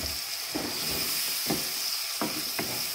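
Tomato puree sautés for prawn curry, a soft, even sizzling hiss with a few distinct spoon strokes spaced through it, moderately quiet and close.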